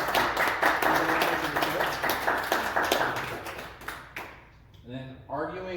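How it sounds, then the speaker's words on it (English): Audience applause at a political debate event, a dense burst of clapping for about four seconds under speech that fades out, followed by a voice talking alone. "So let's give a round of applause"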